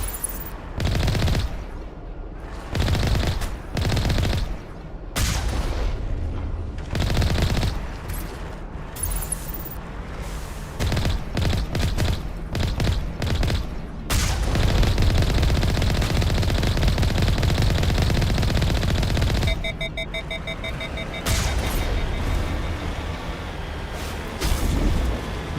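Rapid bursts of automatic weapon fire in Mass Effect 1 during a fight against a Colossus, loud and close, rattling in repeated volleys with brief gaps before a longer continuous stretch of shooting.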